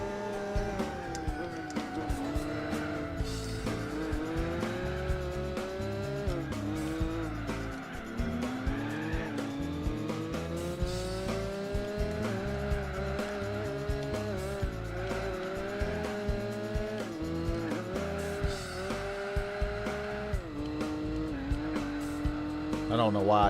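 Race car lapping a circuit in Gran Turismo 4, a continuous revving engine whine rising and falling through gear changes with occasional tire squeal, while someone talks over it.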